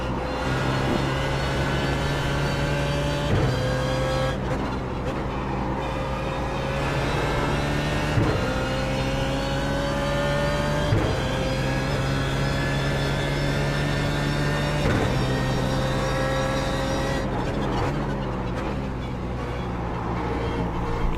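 BMW Z4 GT3 race car engine at Watkins Glen in iRacing, a loud continuous drone whose pitch climbs steadily and drops abruptly with each gear shift, repeating through several upshifts.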